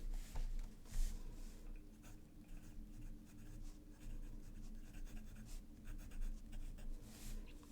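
Fountain pen with a custom-ground extra fine to fine nib, inked with Herbin ink, scratching across paper in quick strokes and short scribbles, close and fairly quiet, steady for several seconds with no talking.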